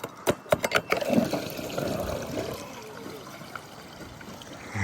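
Water trickles and dribbles from a roof gutter filled all the way round to the downpipe, a soft continuous outdoor flow with a few sharper splashes near the start, heard alone without talk.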